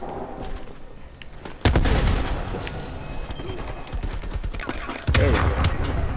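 Rapid automatic fire from a deployed sentry gun in Call of Duty: Black Ops Cold War, loud sustained bursts with heavy thumps and gunfire layered over the battle.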